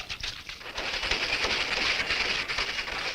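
A cartoon gold train rumbles along the tracks with a steady, broad hiss and rattle, fairly loud and continuous throughout.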